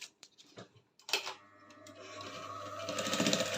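Domestic sewing machine stitching the yoke of a bustier, a few short clicks and taps before the motor starts at about a second, then a steady, close whirring run that builds gradually louder, with no talking.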